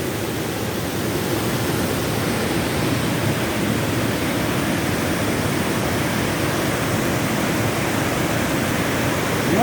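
Floodwater rushes into the Ruidera lagoons after heavy rains in Ossa de Montiel, a loud, constant roar of churning water close by, unbroken throughout.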